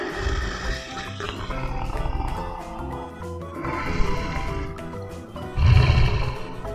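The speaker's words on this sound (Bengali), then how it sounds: "চতে চিতাবাঘ" A leopard gives several rough, low roars and growls in bursts. The loudest, deepest roar comes near the end, over a fuller background.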